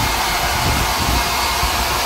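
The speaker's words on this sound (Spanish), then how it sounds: "Se coge un secador de pelo, el secador de pelo ese tan famoso" A hair dryer blowing hot air, a loud, steady broadband whoosh with constant motor hum and no variation, heard alone at close range.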